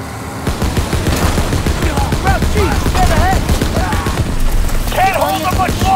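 Mounted gun fires in sustained bursts during a chaotic World War II vehicle fight in Call of Duty: WW2, with shouted voices and crashing effects over the continuous gunfire.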